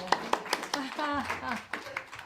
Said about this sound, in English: Oh, an applause to yourself